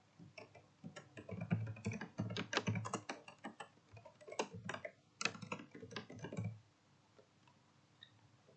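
Typing on a computer keyboard, a quick irregular run of soft clicking keystrokes for about six seconds before falling quiet.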